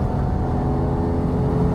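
Cheap home-built race car engine held at full throttle on a track, a loud, continuous buzzing drone close to the microphone with no talk.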